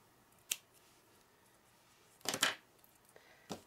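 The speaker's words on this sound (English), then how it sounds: "now just take your scissors and cut straight across" A few crisp snips of scissors through paper, one short cut followed by a longer double snip and another brief snip, close and quiet.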